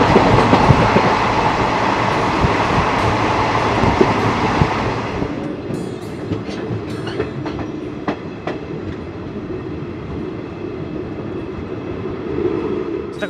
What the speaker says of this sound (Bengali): দেখো ট্রেন কিন্তু এখন খড়গপুরে ঢুকলো